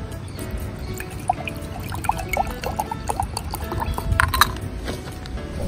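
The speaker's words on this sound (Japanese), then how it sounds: "フィアレッティのモカエクスプレスを使ってコーヒーを入れます。" Coffee brews in a Bialetti Moka Express at a campsite, with liquid trickling and sputtering along with small clinks and taps, fairly close and with no talking.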